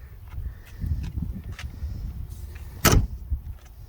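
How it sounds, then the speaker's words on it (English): The door of a 1993 Cobra, a crashed barn find, slams shut with one sharp thud near the three-second mark over faint low background rumble. "That door don't shut like butter,"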